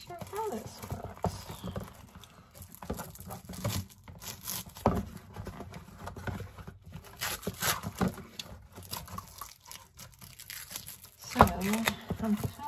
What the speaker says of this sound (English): I'm cutting across it like this.